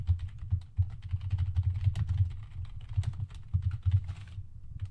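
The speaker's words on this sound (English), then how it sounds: "Let me type this in." Close, steady typing on a computer keyboard, a quick irregular run of soft clicks and taps continuing through the whole stretch with no voices.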